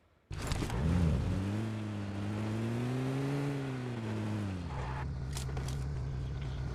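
Car engine in a battle royale shooter game, starting abruptly, then revving up and holding a steady droning pitch with rising and falling harmonics, before settling lower amid a few sharp clicks and knocks.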